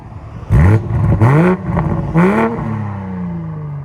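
A 2019 BMW X7 with a 3.0L TwinPower inline-six and straight pipes revs in three sharp, loud bursts, then settles to a steady idle drone, with no voices over it.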